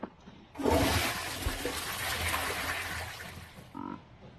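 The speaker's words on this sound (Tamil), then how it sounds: "ஐயோ, என்ன தண்ணி வருது." Water gushes suddenly in the Wobbly Life video game, a loud broad rushing flow that starts abruptly and runs steadily for about three seconds before cutting off, followed by a brief tonal game sound.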